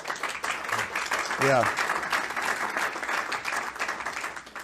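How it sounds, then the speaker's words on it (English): An audience claps throughout at a state House of Representatives hearing, steady dense applause at moderate distance, with a voice briefly speaking over it. "They're really just clapping because for the first time ever, you finally got the time right."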